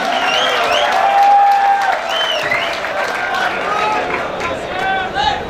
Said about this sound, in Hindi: आपकी जोरदार तालियों में तशरीफ लाते हैं सर वकास नदीम